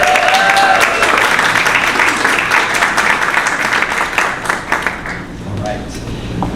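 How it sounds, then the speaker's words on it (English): An audience at a talk on tax reform gives Senator Warren a round of applause, dense clapping that holds loud and near before fading at the end. "How about another round of applause for Senator Warren?"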